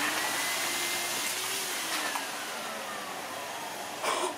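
A powerful dog grooming blower dryer runs with a steady, vacuum-like whooshing roar at moderate distance, continuous without speech.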